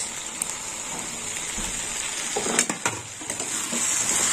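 Small puti fish fry and get stirred in a hot pan, a loud crackling sizzle broken by sharp scraping knocks of the spatula, close and busy with no voices.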